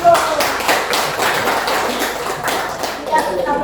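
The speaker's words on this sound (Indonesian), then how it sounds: "Oke, tepuk tangan dulu." A class claps together during a group presentation, a fairly close, loud burst of hand claps and taps with a voice speaking over them.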